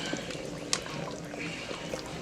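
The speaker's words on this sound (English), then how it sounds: "just going to add my cornstarch water and stir at the same time" Cornstarch water poured into beef and noodles in a pressure cooker while stirring, a soft liquid trickle with faint spoon scrapes and one sharp clink, close and quiet.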